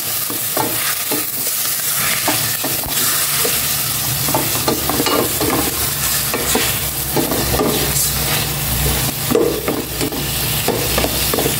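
Pork sautéing in a pan, a continuous close sizzle with frequent stirring scrapes and spatula knocks throughout, and no voices.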